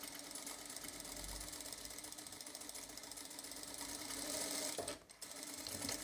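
Sewing machine running steadily while stitching fabric for a homemade face mask, a continuous close mechanical whir with a short pause near the end before it resumes.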